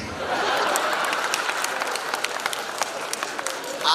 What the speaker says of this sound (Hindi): आप लोग तालियां बजा रहे